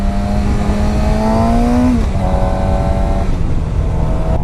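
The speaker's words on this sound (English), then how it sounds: "I really like the sound of the stock exhaust." A 2016 Suzuki GSX-R 750 motorcycle engine with a stock exhaust revs up with a rising, throaty note, then drops back to a steady idle rumble. Loud and close, with no talking.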